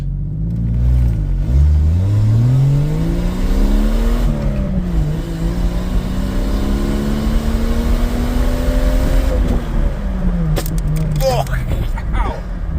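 The engine of a 1996 Jeep Cherokee with a manual clutch revs up and down, its loud, close drone rising and falling in pitch. People talk throughout.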